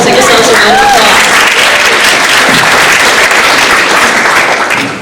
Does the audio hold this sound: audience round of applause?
yes